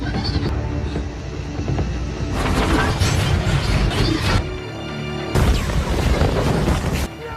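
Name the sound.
explosion of the ship USS Sampson in the film Battleship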